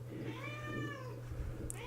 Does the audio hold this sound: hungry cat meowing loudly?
yes